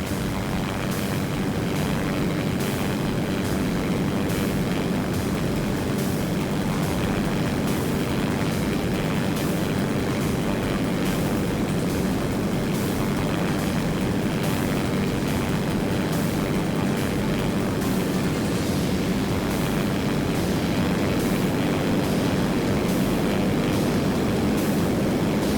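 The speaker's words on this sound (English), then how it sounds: "Plane is a little bit thirstier now that it's got all of these jet engines" A multi-jet-engine aircraft flying in the Simple Planes video game gives off a loud, steady roaring drone that runs unbroken for the whole stretch, with no talking over it.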